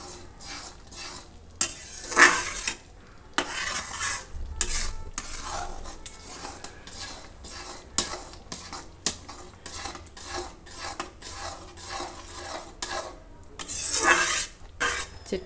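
Tomato chutney with melon cooks in a pan while a spoon stirs it, giving repeated scraping strokes and clinks against the metal over a soft sizzle, close and with no speech.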